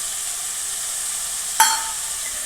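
Tomatoes, ginger-garlic paste and salt fry in a pan with a steady, close hiss of sizzling oil, broken once by a sudden sharp spit as the contents are stirred, then settling back to the constant fry.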